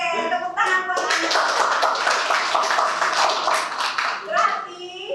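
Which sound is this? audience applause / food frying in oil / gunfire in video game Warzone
audience applause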